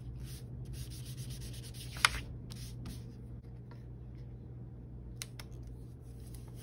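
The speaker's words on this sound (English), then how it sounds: "Rub every spot of your plate." A damp sponge is rubbed over paper laid on a marker-drawn printing plate, making soft, continuous scrubbing strokes close by over a steady low hum.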